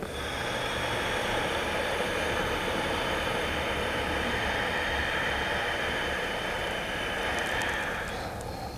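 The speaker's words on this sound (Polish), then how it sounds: "I wydech." A slow yogic exhalation from a full-breath exercise: one long, close, airy breath that flows out steadily for nearly nine seconds at a constant level, with no talk over it.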